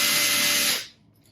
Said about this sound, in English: I'm probably getting screamed at in the comments using this big drill.